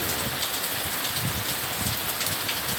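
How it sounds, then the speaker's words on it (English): Heavy rain from a windy pop-up storm in Virginia pours onto a truck, a dense, loud drumming on the metal with steady spatters and no letup. "Look at the wind, the rain shearing off the top of the truck."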